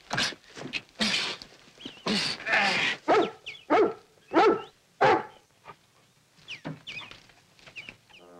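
A dog in a 1960 Mexican film gives a series of sharp barks in irregular bursts, close and fairly loud, with short pauses between them.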